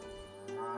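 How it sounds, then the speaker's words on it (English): A cow in a shed lets out a brief, low, drawn-out moo in the video game Milkmaid of the Milky Way, heard close and on its own. "I heard impatient mooing from the shed."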